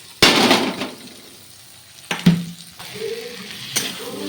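A sharp clatter starts a short burst of sizzling as boiled potato goes into a pan, followed by a couple of scraping knocks and a soft, lingering fry.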